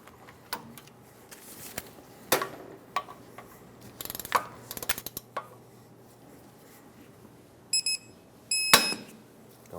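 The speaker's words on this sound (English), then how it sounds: "Now we can torque them all. 149 foot-pounds is the torque." Ratcheting and clicking of a torque wrench tightening lower ball joint bolts on a 2003-2009 Dodge Ram 2500, with scattered sharp metallic clicks and clanks, a few brief louder bursts near the end, over a low steady hum.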